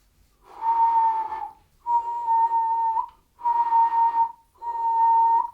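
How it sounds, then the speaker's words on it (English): Four steady, breathy inward-whistled notes, each held about a second with brief gaps between, close and clear with no talking. "think of an inward whistle"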